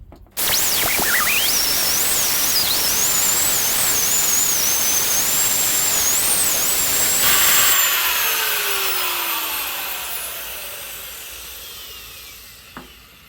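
A Stone Fabrication wet polisher grinding lapidary rock with a 400 grit diamond soft-backed pad gives a loud, steady high whine over a wash of hiss. After several seconds the motor spins down and the sound slowly fades away.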